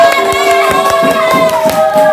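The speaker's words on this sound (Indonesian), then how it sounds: "Tepuk tangan semuanya" A school class clapping together in a lesson, with loud, evenly spaced claps in a steady beat over a sustained tonal hum.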